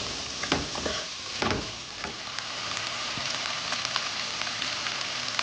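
Onion frying in butter in a pan for a vegetarian lasagna filling, a steady close sizzle with a few louder stirring scrapes early on, no talking.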